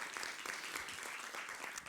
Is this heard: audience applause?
yes